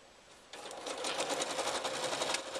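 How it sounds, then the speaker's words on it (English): Sewing machine stitching the lining of an iPad case, starting after a short quiet moment and running at a steady, rapid whirring rhythm, close and moderately quiet with no talk. "I'm hoping I can sew around it without having to move it"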